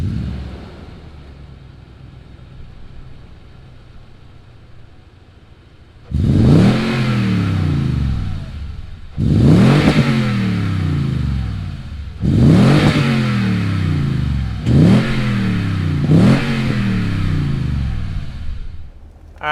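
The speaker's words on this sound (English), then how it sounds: "Let's hear what this V8 sounds like out of that exhaust." A 2020 Toyota TRD Pro V8 barks through its TRD catback exhaust. A low idle gives way to five sharp, loud revs, each rising and falling back toward idle, with short pauses between them.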